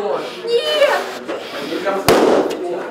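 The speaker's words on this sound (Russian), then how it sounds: "Салют лопнувшим шариком" During a vocal master class breathing exercise, a balloon bursts in one sharp, loud pop amid people talking and exclaiming nearby.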